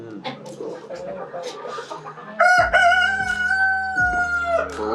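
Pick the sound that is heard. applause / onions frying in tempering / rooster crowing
rooster crowing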